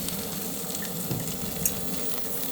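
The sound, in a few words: salmon searing skin side down in butter in skillet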